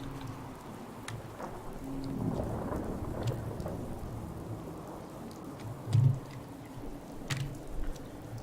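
A video game thunderstorm: steady rain patters on surfaces while low thunder rumbles through, swelling with one sharper, louder crack partway through, with no voices.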